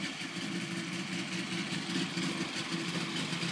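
An Arctic Cat Quad-Trac, a center-articulating four-track machine, idles in a steady, continuous low rumble with a faint broadband hiss on top, holding even throughout without revving.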